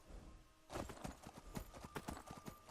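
Hooves of a horse climb a steep slope in Skyrim. They clop in a quick, uneven run that is loud and close, with no one speaking over them.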